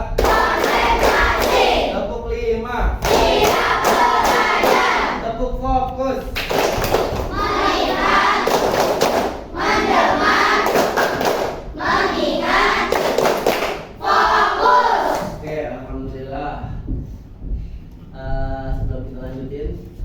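Students in a classroom clap in rhythmic bursts, pausing between rounds and growing more complex each round, while children's voices chant along loudly.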